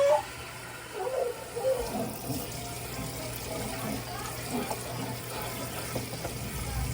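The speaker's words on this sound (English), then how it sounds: "I'm just rinsing out my noodles to cool them down a little bit" Tap water runs and splashes over cooked macaroni noodles in a strainer, a steady, moderately faint wash with a low hum beneath.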